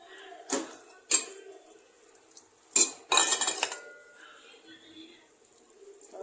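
Metal spoon scraping and clinking against a cooking pot while spices and coriander are stirred in, a few sharp clatters spaced apart over quieter kitchen noise.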